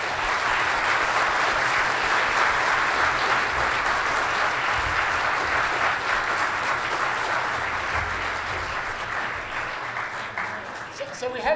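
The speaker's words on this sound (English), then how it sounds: "let's give all of our debaters a round of applause" Audience applause for debaters at an Oxford-style AI debate, a dense, sustained wash of many hands clapping throughout, loud and steady before easing slightly near the end.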